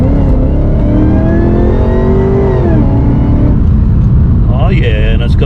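A supercharged VF HSV R8 Clubsport accelerates hard from inside the cabin, its engine note rising and sweeping up through the revs, loud and close, while people talk over it.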